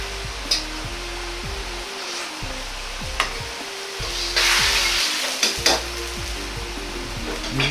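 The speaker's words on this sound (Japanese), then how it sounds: "オイスターソース大さじ1強を入れます。 あれば中国醤油を小さじ1入れます。" Oyster sauce and Chinese soy sauce stirred into a sizzling pan for a Chinese-diner omelette rice sauce; a steady fry hiss with repeated scraping stir strokes and a few sharp utensil clinks, close and moderately loud, no talking.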